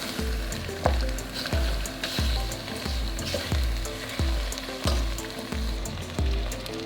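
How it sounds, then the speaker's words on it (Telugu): Chicken pieces for a country-chicken curry sizzle and fry in a pan while being stirred, with steady hissing broken by regular scraping strokes about once a second, close and loud, no talking. "ఇప్పుడు ఇందులో ఈ చికెన్ ముక్కలను వేసుకోవాలి. వేసుకొని కలుపుకుందాం."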